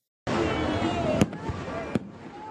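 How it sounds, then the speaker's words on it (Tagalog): A fireworks display crackles and rumbles steadily, with two sharp bursts popping out clearly above the continuous roar. "panoorin muna natin ang isang fireworks display."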